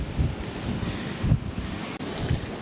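Flood water surges in waves near a Second World War bunker: a steady roar of wind-blown surf with low rolling swells washing in every second or so, loud and close, heavy wind buffeting the microphone, no voices.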